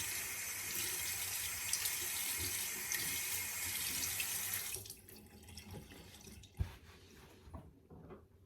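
Tap water runs steadily into a sink while a Rex Ambassador safety razor is rinsed beneath it, then the flow shuts off and a few drips and a small knock follow in the quiet, close up with no talk.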